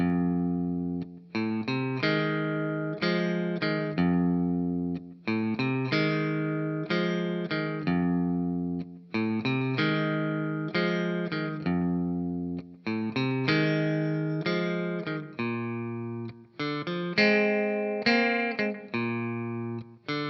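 Overdriven electric guitar plays the first eight bars of a blues, a chugging riff of low notes repeated in a steady shuffle rhythm, loud and continuous with no talking.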